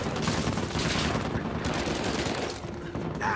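Sniper fight in the video game Uncharted 4, with dense bursts of gunfire packed tightly together, loud and continuous for a few seconds with little pause between shots.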